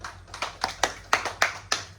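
Several hands clap in a steady, evenly spaced rhythm at a ceremony honouring the first customer of a new furniture business in Lanka, Assam, about seven sharp close claps with no talk over them.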